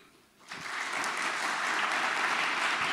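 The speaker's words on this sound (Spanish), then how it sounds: "También un aplauso para él." Applause from an audience at a Mexican Bicentennial lecture on post-revolutionary Mexico, starting abruptly after a brief quiet moment and building into steady, sustained clapping across the room.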